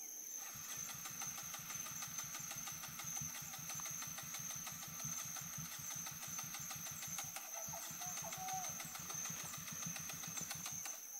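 A trail motorbike engine revs hard and steadily for several seconds in rapid pulsing firing, close and loud, with only a brief dip midway.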